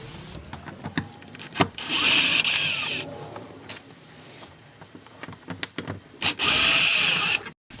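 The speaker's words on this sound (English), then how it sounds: "They're just regular Phillips screwdrivers, so let's remove those." A power screwdriver removes Phillips screws from the rear door panel of a 2003 Ford F-150, with two loud whirring runs of several seconds each separated by clicks and handling noise.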